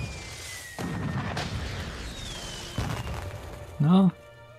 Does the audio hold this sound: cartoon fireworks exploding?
yes